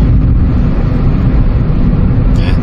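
Kia Morning city car with a newly replaced exhaust system coasting after the accelerator is released, giving a steady, loud low engine and road rumble from inside the cabin with a faint higher hiss at the end.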